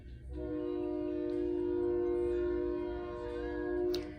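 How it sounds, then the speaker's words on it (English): A train passes with its horn sounding one long, steady, loud chord for several seconds over a low rolling rumble of the cars. "The train is coming through."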